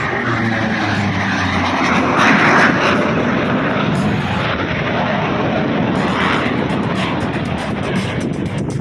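Yak 110 aerobatic aircraft performing at an airshow in Shellharbour, its engine giving a loud, steady, broadband roar that swells slightly mid-pass and stays close throughout, with no talk.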